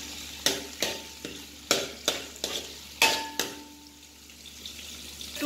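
Curry spices sizzle quietly in a pan over a medium flame while a utensil scrapes and taps it in repeated strokes, then the stirring stops and a faint sizzle remains.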